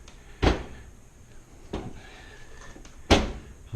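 The door of a Fulgor Milano Sofia range is pushed back into place, giving three separate knocking clunks of metal and hinge a second or so apart, close and fairly loud, with no talk over them.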